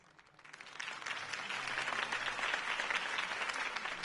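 Crowd applause swelling after a campaign speech in the Batman Telltale video game, rising from quiet to a sustained, dense clapping that holds steady throughout.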